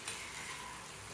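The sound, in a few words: eggs frying slowly in pan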